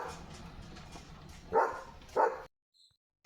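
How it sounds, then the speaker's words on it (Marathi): A German shepherd barks twice at other dogs during an evening walk in open fields, two loud, close, separate barks over low outdoor background noise, then a brief silence. "ते दिसलेत लिओला म्हणून लिओ भुंकतोय"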